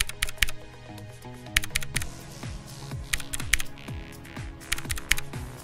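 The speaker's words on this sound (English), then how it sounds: "do these keys have that satisfying click. Each press sounds and feels so good." A Whirlwind FX Atom mechanical keyboard with blue clicky switches is typed on steadily, giving a close, continuous run of sharp clicks with bursts of faster keystrokes.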